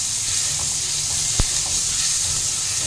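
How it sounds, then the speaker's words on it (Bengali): Potatoes frying in oil with turmeric, a steady close sizzle and hiss with one sharp knock of a utensil partway through. "আলুটা ভাজবো বলে আলুটা আমি দিয়ে দেবো তেলের উপরে"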